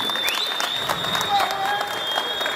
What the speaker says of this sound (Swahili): Makofi mengi tafadhali